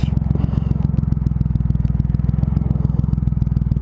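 A 2.3 litre motorcycle engine idles in traffic with a loud, close, rapid regular pulsing throb, a deep rhythmic thrum that stays even from start to finish.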